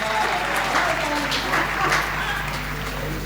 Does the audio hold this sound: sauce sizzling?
no